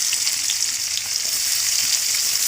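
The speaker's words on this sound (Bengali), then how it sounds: "এরপর পেঁয়াজ কুচি দেব," Chopped onions frying in hot oil with whole spices and dried red chillies, a steady, loud, close sizzle that hisses without pause for the whole stretch, with no talking.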